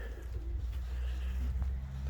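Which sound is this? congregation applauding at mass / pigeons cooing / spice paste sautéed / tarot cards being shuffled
pigeons cooing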